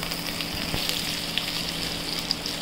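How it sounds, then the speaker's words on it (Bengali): Chili, whole cumin and a bay leaf fry in hot oil for fish curry, giving a steady, close crackling sizzle with faint occasional pops and stirring, no talking. "মরিচ আর জিরা ফোড়ন, গোটা জিরা আর একটা তেজপাতা দিয়ে কিছুক্ষণ নাড়াতে হবে।"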